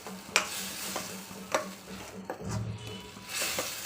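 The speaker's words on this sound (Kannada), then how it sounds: "ಈಗ ಮಸಾಲೆ ಹಸಿ ವಾಸನೆ ಹೋಗೋವರೆಗೂ ಚೆನ್ನಾಗಿ ಫ್ರೈ ಆಗಬೇಕಿದೆ ಮಸಾಲೆ." Ground masala paste frying in oil in a pan for a potato and green pea curry, with a steady soft sizzle, a spoon stirring and scraping, and a few sharp clinks against the pan, close by with no talking.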